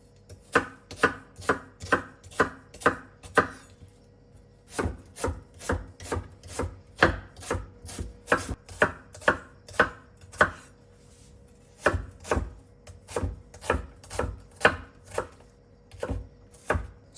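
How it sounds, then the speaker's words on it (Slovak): An onion being cut into small pieces with a knife on a board, rapid rhythmic chopping strikes in bursts with short pauses, close and crisp. "Cibuľu nakrájam na menšie kúsky."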